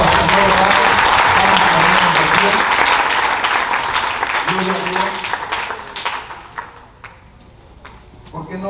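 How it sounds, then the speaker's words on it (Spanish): A church congregation gives a loud, sustained round of applause during a sermon that tapers off toward the end, while a voice calls out over it. "Denle un aplauso al Señor."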